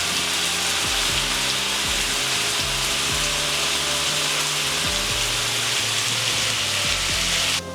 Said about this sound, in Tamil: ப்ரானும் நல்லா டீப் ஃப்ரை ஆகிட்டுருக்கு.